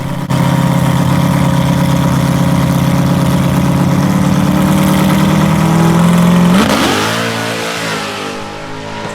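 A drag race car on a small-tire test pass, engine held at a loud steady high rev for several seconds, then abruptly dropping off and fading as it winds down.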